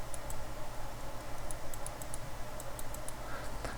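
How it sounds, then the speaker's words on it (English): Typing on a computer keyboard, with a quick series of light, crisp key clicks in an uneven rhythm over a steady low hum, up close and without any talking. "the username we get from the keyboard, it is Steve"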